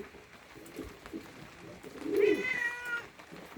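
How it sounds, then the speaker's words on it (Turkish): A cat gives a short meow close by among cooing Adana pigeons, the meow standing out clearly for a moment over the birds' low calls. "Kedi."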